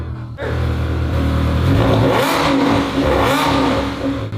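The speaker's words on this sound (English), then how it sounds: "Dantje, do you want to give it a little rev" A Ferrari 360 Spider engine, a neglected car after repair, revs loudly and close up, rising in a sustained roar and then settling back, with no talk over it.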